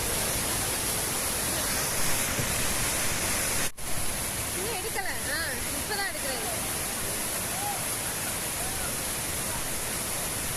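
Water pours over the Ellapatti check dam near Chinnamanur as a waterfall, a loud continuous broadband rush filling the whole clip, with a brief dip and some faint tonal sounds partway through.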